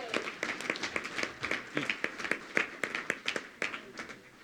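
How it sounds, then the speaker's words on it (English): An audience at a school board meeting gives scattered, uneven clapping in honour of a student's PSAT recognition. The claps sound moderately close and somewhat sparse, rising and falling over a few seconds. "Let's give him a round of applause."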